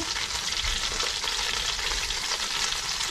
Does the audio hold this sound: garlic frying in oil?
yes